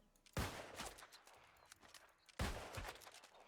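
Musket shots striking a chest in the video game New World, two sharp, loud blasts about two seconds apart, each followed by a short decaying tail, with no talking.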